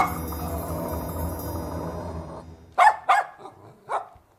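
Cartoon dog barking, three sharp barks after a stretch of background music, close and clear.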